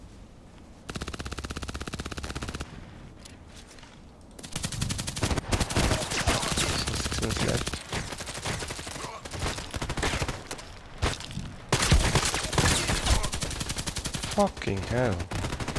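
Rapid video game gunfire, bursts of shots from a sniper-and-shotgun shooter match, loud and dense across most of the stretch, with a short pause before the heavy firing resumes and a man swearing over it.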